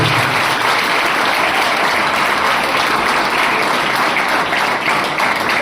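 A large audience claps loudly and steadily at a school event welcoming ex-servicemen, a dense, continuous wash of applause that holds level throughout without pause.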